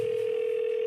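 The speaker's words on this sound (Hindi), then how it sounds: "फिर टिया को कॉल किया।" Telephone call tone as a sound effect: a single steady electronic tone holding evenly for under a second, close and clear, with no other sounds.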